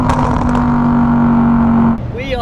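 A Lamborghini Huracán EVO V10 engine with QuickSilver exhaust drones loudly with a steady high-pitched hum close by, then drops off as a voice briefly starts talking.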